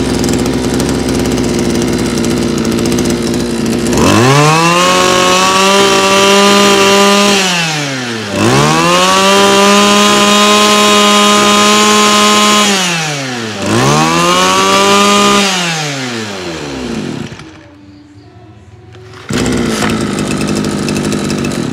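A Japanese-made Echo chainsaw engine runs loud and close, revving up three times in long sweeping bursts that fall back to a rough idle, then briefly cuts out before idling again.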